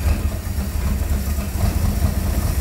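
A Dodge A-100 shop truck engine idles running rich, a loud, close, steady low rumble with an uneven lumpy pulse throughout, no voices.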